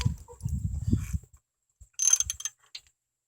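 Small ratchet on an 84 Mazda with a stuck engine being worked by hand, a cluster of close clicking and ratcheting strokes after a stretch of low mechanical rumble, alone with no talk.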